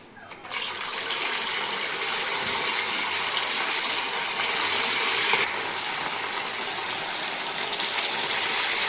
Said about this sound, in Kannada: ಈಗ ಇದನ್ನ ಎಣ್ಣೆಯಲ್ಲಿ ಕರಿಯಬೇಕು.